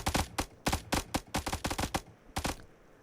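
Rapid bursts of gunfire from headshots in the mobile battle royale game PUBG Mobile, a dozen or so sharp close shots in quick irregular clusters, loud and alone with a short pause before a final pair.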